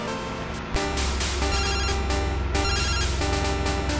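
Phone ringtone from the Pokemon Crystal video game, a loud, repeating chiptune ring pattern that continues steadily with no talking.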